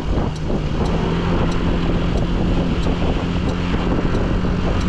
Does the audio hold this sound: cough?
no